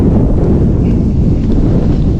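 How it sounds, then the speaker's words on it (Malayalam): Strong, cold wind buffets the microphone on a Kerala road trip near Elappara junction in Idukki, producing a loud, continuous low rumble with no pauses and no voices. "പക്ഷേ നല്ല കാറ്റടിക്കുന്നുണ്ട്"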